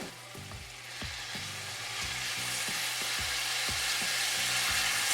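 Vegetables with Italian-herb sun-dried tomatoes sauté in a pan, a steady hissing sizzle that grows slightly louder, with scattered scraping stirs throughout and no talking.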